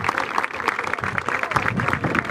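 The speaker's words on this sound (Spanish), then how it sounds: "A ver ese aplauso, bien fuerte" Applause from a crowd at the inauguration of a kindergarten, loud close clapping with an uneven, pulsing rhythm, brief and continuous.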